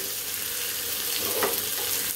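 Green chillies sauté briefly in a hot pan for a bun dosa batter, giving a continuous close, even sizzle with a slight stir-like swell near the middle and no talking.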